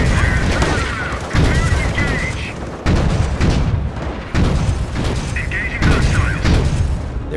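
Heavy gunfire and explosions from a Company of Heroes: Modern Combat battle between US Marines and PLA ground forces. Repeated loud bursts and booms come in waves, with radio-style unit voices talking over the combat.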